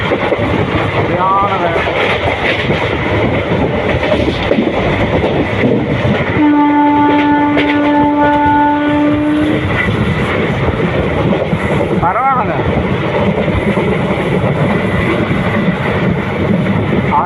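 Passenger train on the Tiruchirappalli to Puducherry line, a steady loud rumble of running wheels and carriages with a sustained horn blast midway, with voices talking over it.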